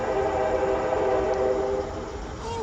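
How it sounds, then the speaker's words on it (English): A passing train near a house garden gives off a loud, steady rumble with sustained horn-like tones that hold for the whole stretch, heard alone without talk. "Of course, the train."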